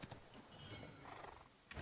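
Horse in the online role-playing game Black Desert Online, with soft hoof clip-clops and a brief neigh over a faint ambient game backdrop, steady throughout with a louder hit at the end.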